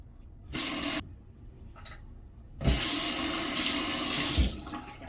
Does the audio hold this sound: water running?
yes